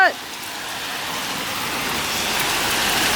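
Dense hail pelting down during a Santa Monica hailstorm, a steady loud broadband hiss of countless impacts that builds slightly over a few seconds, with no talking.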